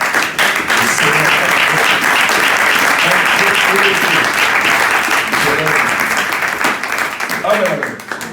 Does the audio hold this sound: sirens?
no